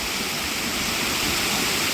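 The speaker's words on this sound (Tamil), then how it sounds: "இங்கே வரும் எப்படி தண்ணி போகுது பாருங்க." A forest waterfall roars as water rushes down over rocks, a loud, dense and unbroken wash of sound with no voices.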